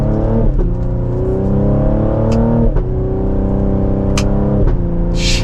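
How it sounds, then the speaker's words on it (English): A 2024 Cadillac CT5-V accelerating hard from inside the cabin, engine note climbing steadily through quick gear shifts with brief dips at each change, loud and continuous with faint crackles near the end. "let's do one last acceleration for today's video"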